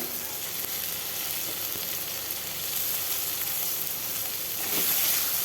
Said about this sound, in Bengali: টমেটোটা যেন ভালো করে ভাজা হয়